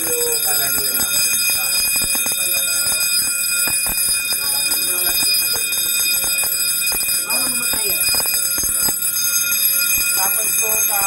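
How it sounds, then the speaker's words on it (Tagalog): A smoke detector's first-stage alarm going off indoors, sounding as a steady, loud electronic tone with pulsing beeps that run unbroken through the whole stretch while a person talks over it. "nagka-first alarm ka, parang nag-trigger na yung smoke detector na natin"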